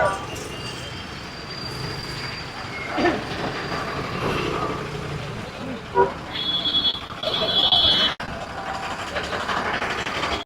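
Heavy traffic crawling in a multi-lane jam on a busy road, a steady broadband rumble of engines with a few horn toots and brief louder passes, under occasional talk.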